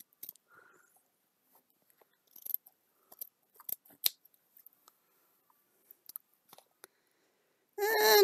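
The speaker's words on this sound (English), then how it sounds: "And now I've got to find a smaller pair of scissors, I think, to get in there." Scattered snips of a pair of scissors cutting paper or craft material during a crafting session, quiet isolated clicks and cuts spread across the span, ending in a sudden loud burst of rustling noise.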